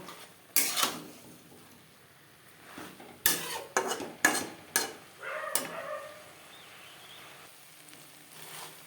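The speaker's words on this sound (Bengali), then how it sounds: "আবারও লো টু মিডিয়াম ফ্লেমে তিন চার মিনিট নাড়াচাড়া করে নেব" Fish roe curry with tomato and spring onion cooks over low to medium flame while a spoon scrapes and knocks against the pan in a few sharp, separate strokes over a quiet simmer.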